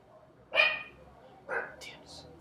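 A dog in the video game Battlefield Hardline gives two sharp barks about a second apart, followed by short high yelps, fairly close and alone.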